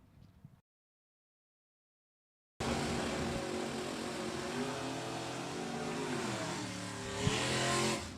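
Corvette stock car accelerating hard down a drag strip at a divisional drag racing event, a loud sustained engine roar with rising pitch after a brief silence, swelling and holding steady as it passes.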